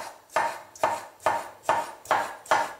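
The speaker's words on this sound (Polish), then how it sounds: "a później tak, żeby nam wyszły w miarę cienkie, podłużno-poprzeczne plastry i kroimy w słupeczki" Up close, a knife chops pickled cucumber slices into sticks on a board: six sharp, regular strikes about half a second apart, with nothing else heard.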